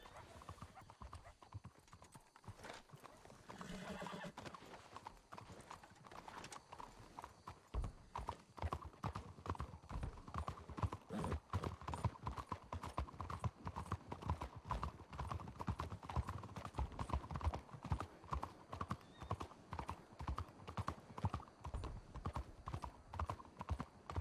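Horse hooves clip-clopping in a steady, close rhythm on a hard surface, continuing for a long stretch, with faint voices and a brief whinny-like sound near the start.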